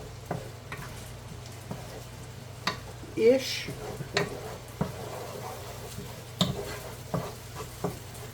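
Lumberjack hash with peppers cooking over medium heat in a pan, a steady soft sizzle broken by occasional stirring scrapes and light clinks of a utensil, close up with no talking.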